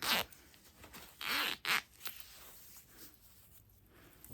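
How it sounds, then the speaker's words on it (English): A continuous zipper is pulled down in a few quick raspy zips, close and quiet, with small handling scrapes between them. "you can zip it all the way down to near the bottom."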